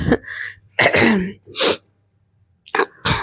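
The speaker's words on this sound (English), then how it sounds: "I still have cough, and as the days are passing, my cough is getting more worse" A few harsh, throaty coughs and throat-clearing bursts from one person, close up, separated by short silent gaps.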